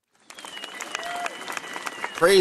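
A burst of hand clapping, fast and dense like a room applauding together, running for about two seconds with faint voices mixed underneath.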